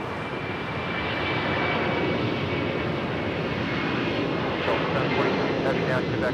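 Jet engines of a Boeing 747 at Los Angeles airport roar in a steady, broad rushing drone that builds slightly over several seconds, with radio-style voices faintly over it.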